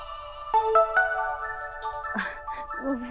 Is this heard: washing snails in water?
no